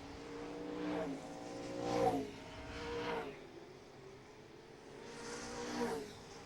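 NASCAR late model race cars circle Mesa Marin Raceway, engines rising and falling as several cars roar past one after another at a moderate distance, a steady wash of racing noise.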